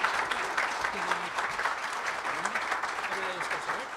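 Audience applause after a lecture, a steady wash of clapping from a seated crowd, with a voice faintly audible underneath.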